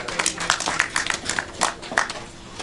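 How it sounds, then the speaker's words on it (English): Scattered claps from an audience at a college gathering, a light, uneven round of applause rising and falling in a few soft bursts, moderately distant. "you can give your college a round of applause for that"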